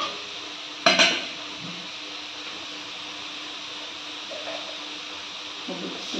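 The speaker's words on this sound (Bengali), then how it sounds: "রাখা আলুটা দিয়ে দিচ্ছি।" Potato pieces go into a cooking pan with a sharp clatter of food and utensil against metal, followed by a low steady kitchen hiss and a few faint stirring scrapes.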